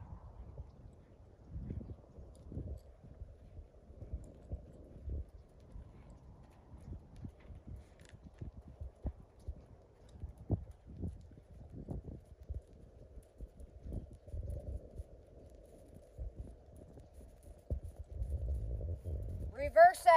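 Hooves of a ranch horse walking on a show arena rail clip-clop in a steady, soft rhythm for about twenty seconds, with faint low rumble and a brighter stir near the end.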